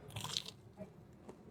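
A crisp crunchy bite into a tuna-filled bread snack, close and fairly quiet, with a short burst of crunching followed by a couple of softer chewing sounds.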